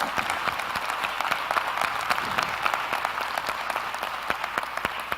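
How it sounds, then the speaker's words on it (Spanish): Audience applause closing a lecture on hospitality industry trends, a fairly faint, steady patter of many hands with a few sharper individual claps standing out, and no talk over it. "Vamos a brindarle un fuerte aplauso al licenciado Hugo Vela"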